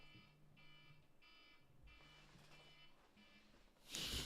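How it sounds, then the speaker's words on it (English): An alarm clock goes off in repeated beeping bursts, moderately loud, with a louder rustle at the very end. "She doesn't realize her alarm is going off."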